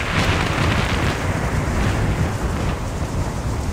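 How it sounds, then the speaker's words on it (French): Storm wind sound effect for a terrible thunderstorm, a loud constant roaring gust with rumbling low end, like heavy rain and wind together, unbroken throughout with no voices. "le roi et la reine, de passage dans les environs, furent surpris par un terrible orage."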